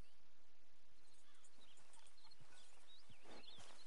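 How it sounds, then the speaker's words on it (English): Faint, soft horse hooves clip-clop at a walking pace in the Red Dead Redemption open world, with light bird calls and quiet ambience around them. "I do kind of like this horse"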